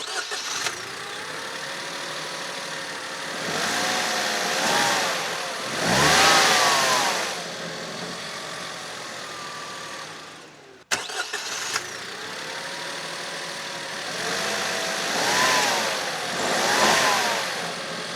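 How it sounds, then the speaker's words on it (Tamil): A Maruti Swift LXI's three-cylinder petrol engine starts and idles, with a few moderate revs that swell and fall back, then cuts off briefly and restarts, heard close by with no talk. "ஃபஸ்ட்டு இந்த என்ஜினோட ரிஃபைன்மெண்ட் லெவல்ஸ் எப்படி இருக்குன்னு பார்க்கலாம்"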